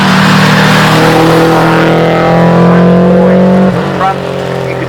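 A car accelerates hard on the Shelsley Walsh hill climb during the Gumball 3000, its engine note rising loud and close before dropping away near the end.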